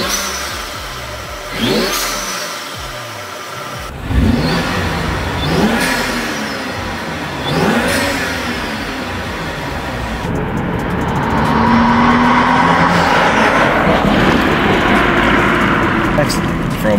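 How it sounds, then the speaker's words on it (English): A turbocharged BMW F30 335i revs up repeatedly in loud, rising engine bursts, with whooshing intake and turbo air sounds swelling and falling, followed by a sustained high-revving drone; a person talks over part of it. "it does produce some pretty awesome intake noises, turbo noises, air swooshes, and all that good stuff that we like"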